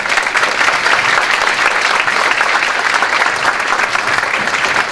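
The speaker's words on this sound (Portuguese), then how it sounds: "Senhoras e senhores, recebam com uma salva de palmas o nosso palestrante" A live audience applauds to welcome a lecturer onto the stage at a talk on neuro-linguistic programming. The clapping is steady, dense and loud, filling the whole stretch without a break.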